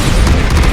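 A Bombarda spell detonates in Hogwarts Legacy: a single short, loud, booming blast filling the whole burst with no pause.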